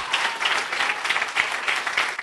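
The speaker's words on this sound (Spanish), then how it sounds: "denle un aplauso al Señor por el perdón de pecados" A church congregation applauding during an evangelistic service, a brief, loud wash of many hands clapping at once that fades toward the end.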